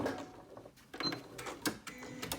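Domestic sewing machine reverse stitching at a pocket opening on fabric pieces, heard as short bursts of mechanical stitching chatter with brief pauses, close and moderately quiet.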